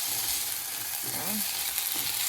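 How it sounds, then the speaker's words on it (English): Quinoa toasting in a pan gives a steady, close, bright sizzle that holds evenly throughout, with a brief scrape of stirring partway through. "You just wanna toast your quinoa, just so it has like a little bit of color to it."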